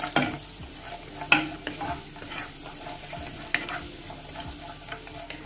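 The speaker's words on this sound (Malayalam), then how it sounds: "2 ടേബിൾ സ്പൂൺ കാഷ്യൂനട്ട് ചേർത്ത് കൊടുത്തിട്ടുണ്ട്." Cashew nuts and shallots fry in a pan with a continuous crackling sizzle, broken by a few sharp scrapes and clinks as they are stirred, close and fairly loud with no voices.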